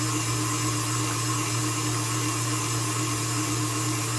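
An electric mixer whirs steadily and loudly through rhubarb cake batter made with farm egg, a constant motor drone with no pauses.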